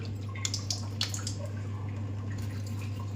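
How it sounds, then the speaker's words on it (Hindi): Water runs and drips from an RO water purifier during servicing, a soft trickle with scattered splashy drops over a steady low electrical hum. "इसमें से पानी निकल रहा है अभी"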